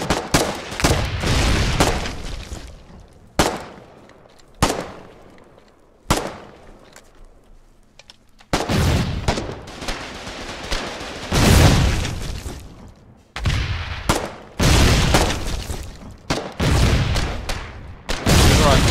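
Mortar fire and explosions in the war game Foxhole: repeated loud booms and blasts in bursts, with dense crackling volleys and brief quieter gaps between them.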